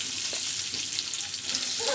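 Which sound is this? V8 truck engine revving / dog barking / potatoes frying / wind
potatoes frying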